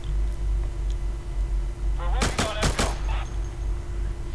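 A quick cluster of about four sharp rifle shots fired one at a time in the video game Insurgency, close and loud over a steady low background hum, with someone speaking.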